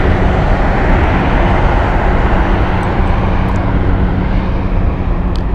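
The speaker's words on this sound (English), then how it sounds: "Here's our Austin flight taking the runway." An airliner bound for Austin rumbles onto the runway at Las Vegas airport, its jet engines giving a loud, continuous broadband roar that stays steady without talk.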